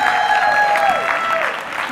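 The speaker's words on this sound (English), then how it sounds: "big round of applause for the couch crew" A conference audience at IZEAFest 2015 applauds the couch crew, a short, steady wash of clapping with a sustained tone sounding over it.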